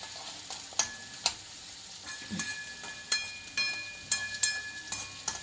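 Chopped onions fry in a pan until they turn pink, giving a steady low sizzle broken by sharp, irregular scrapes and knocks of a spatula stirring them, close and fairly loud, with no speech.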